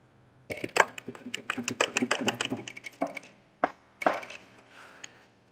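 A sewing machine tack-stitches a blouse in rapid bursts of sharp, closely spaced clicks, a longer run followed by a pause and two short bursts, heard close and clear.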